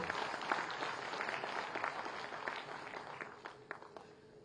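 Audience applause at a government job offer ceremony in Tripura, a steady, distant patter of clapping from a hall crowd that carries on evenly throughout at low volume.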